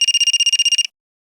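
A mobile phone rings with a rapid electronic trill of about fifteen short, evenly spaced pulses, loud and close, then stops abruptly into silence.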